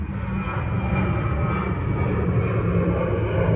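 An airplane passes overhead with a steady, loud, rumbling engine roar that holds throughout without any break, and no voices are heard.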